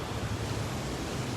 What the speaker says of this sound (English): It's windy, and we're by the highway